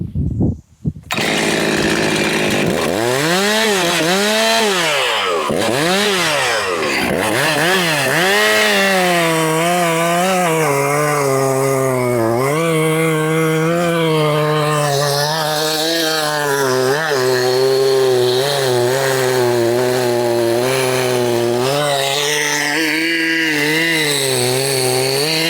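A Stihl MS363 chainsaw cuts into wood, loud and close, its engine revving and bogging as the chain bites, then holding a strained high whine through a long continuous cut.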